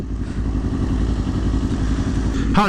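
A Kawasaki Ninja motorcycle's exhaust rumbles steadily and loudly close by, a constant throbbing engine note that ends in a brief sharp burst.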